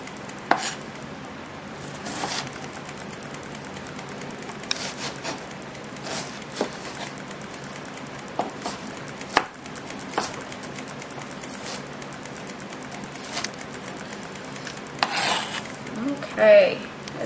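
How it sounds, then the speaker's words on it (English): An onion sliced with a knife on a board gives sharp, close chopping knocks at irregular intervals, with a few louder clacks and light utensil clatter between cuts. "you take it and you slice it partway through, and that helps you get more uniform slicings of onions"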